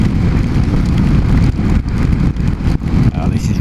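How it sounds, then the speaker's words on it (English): Rain and wind roar around a rider on a Honda CB250RS motorcycle on a wet, windy road, a loud constant rush with engine drone beneath and brief gusty dips. "Oh, this is raining now."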